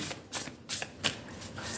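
A deck of tarot cards is shuffled up close in several quick rustling bursts separated by short pauses, with no talking.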